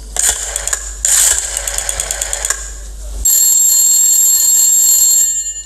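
Electronic telephone ring during a live comedy stage sketch, loud repeated bursts of bright ringing over about three seconds, followed by a sustained steady electronic tone.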